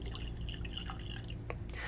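Bourbon whiskey trickles into a glass, a faint, close liquid dribble with a few small drips over a low steady background hum.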